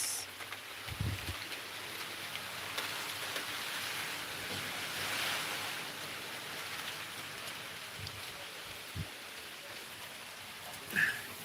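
Heavy rain from Cyclone Remal making landfall near the coast of Bangladesh, a steady dense hiss of downpour with scattered louder gusts and drops, continuous for the whole stretch with no talking.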